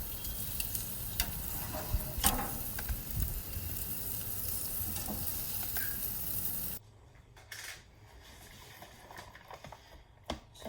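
Shrimp sizzling on a grill, a steady crackling hiss with scattered pops and clicks, dropping to a quieter sizzle partway through with occasional tool taps.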